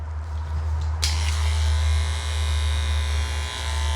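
Electric dog clippers with a 10 blade shaving a Shih Tzu's belly give a loud, steady motor buzz close up, with a sharper cutting rasp coming in after the first second and continuing to the end.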